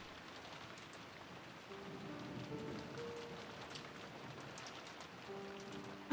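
Steady rain patters continuously in the Umineko visual novel game, soft and even, with a faint sustained musical tone underneath.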